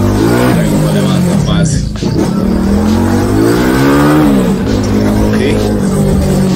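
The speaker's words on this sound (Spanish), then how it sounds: "Este motor se siente bastante bien, mi gente. Está bien armado." A CG200 motorcycle with its 250cc engine bored out to 300cc, revving hard and loud close by with rising and falling pitch as it climbs, a brief dip near the two-second mark, and wind rush throughout.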